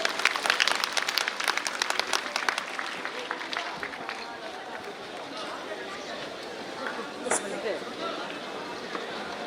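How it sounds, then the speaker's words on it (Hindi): Audience at a National Mathematics Day celebration in Patna applauding students, starting with loud, dense clapping that tapers to scattered claps amid crowd chatter and talking. "कृपया करके जोरदार तालियों से इनका अभिनंदन करें"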